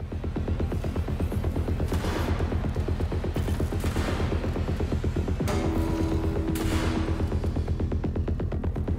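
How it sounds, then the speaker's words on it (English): A shotgun firing in the video game Atomic Heart, heavy booming blasts over a loud, dense, throbbing layer of game sound and music that runs without pause. "Shotgun."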